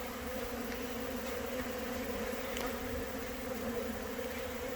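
Honeybees buzzing at a hive entrance reduced to a narrow gap during robbing, a steady droning hum that stays even and close throughout with no voices.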